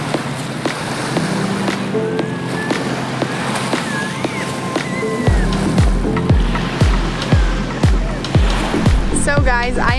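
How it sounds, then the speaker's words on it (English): Waves wash onto a sand beach in St. Petersburg under steady wind noise, with rhythmic surges growing stronger in the second half of the recording. "I am now at the beach here in St. Petersburg"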